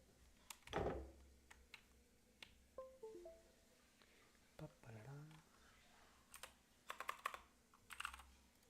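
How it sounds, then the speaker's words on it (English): Clicks of typing on a computer keyboard in a home room, scattered keystrokes in short bursts up close, with a person talking nearby in between. "Oh, it's my keyboard."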